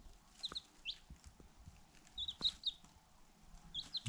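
Faint chickens cluck and peep intermittently in the background, with scattered soft knocks and rustling.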